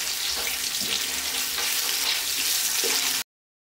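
Green chillies, cashews and curry leaves sizzle in hot ghee in a frying pan, a steady close crackle and hiss running unbroken for about three seconds before cutting off.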